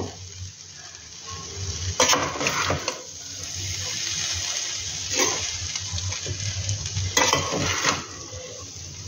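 Cooked rice being stirred and mixed into a pan for fried rice, spatula scraping and clattering against the metal in a few louder bursts over a steady low sizzle, with no talking.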